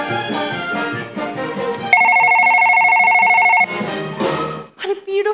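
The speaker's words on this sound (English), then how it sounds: "I don't want this number ruined by another ringing telephone" Telephone ringing onstage during a performance of the musical The Drowsy Chaperone, a steady electronic trill lasting about two seconds that cuts in over orchestral accompaniment, which resumes once it stops.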